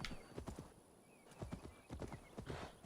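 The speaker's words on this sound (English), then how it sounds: "Horse?" Steady clip-clop of horse hooves at a trotting rhythm in Assassin's Creed Valhalla, clear and close, with no voices.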